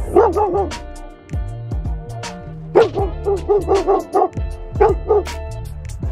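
Dogs bark at a dog park fence in sharp close bursts, a quick run of yaps, then a pause and another series of barks and yips.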